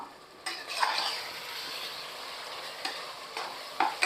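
Mutton for Vaniyambadi mutton biryani cooking in a pot, with a soft sizzle, stirring and spoon scraping at close range and a few sharp clinks against the metal, no talking.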